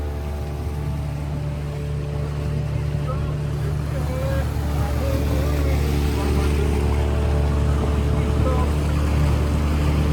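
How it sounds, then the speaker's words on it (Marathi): Motorboat ride on Pawana Dam lake, a steady engine drone with a low hum and wind and water noise throughout, fairly close and continuous. "आता जरा तुम्ही बोट राईड बघा"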